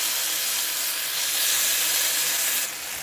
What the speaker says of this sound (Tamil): நாம் அரைச்ச சட்னியை நல்லா வதக்கிக்கலாங்க